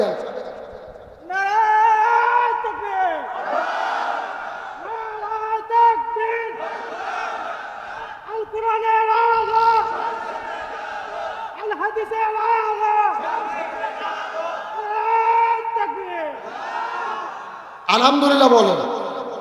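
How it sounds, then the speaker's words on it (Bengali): A large crowd at an Islamic religious gathering chants takbir in loud repeated unison calls, the voices rising and falling in waves, with a leader's voice prompting between rounds. "ভালো করে একজন তাকবীর দেন তো দেখি, ৬টা তাকবীর দেন।"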